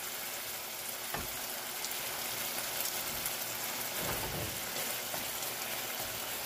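Steady rain falls throughout as a dense, even hiss, with a few louder spatters or thuds near the middle, continuous and fairly close with no voices.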